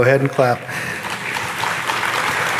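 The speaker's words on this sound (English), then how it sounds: "Go ahead and clap." A brief spoken phrase gives way to steady applause from a convocation audience, a broad, even wash of clapping that fills the rest of the moment.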